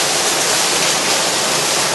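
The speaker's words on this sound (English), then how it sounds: "water going on from the top wheel now, filling the bucket. It'll start turning very shortly." Water pours loudly and steadily onto the buckets of an overshot wheel at Nether Alderley Mill, a dense close-up roaring splash with no break.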